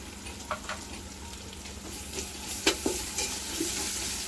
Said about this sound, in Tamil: பச்சை மிளகாய் போட்டு நல்லா கிண்டி விட்டுக்கலாம்.